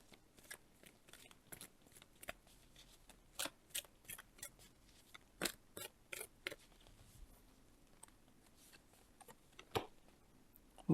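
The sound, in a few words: shuffling tarot cards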